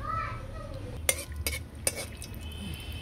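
Dried red chillies fry in hot mustard oil in a wok, a low continuous sizzle marked by three sharp metallic clinks of a utensil against the pan, heard close with no speech.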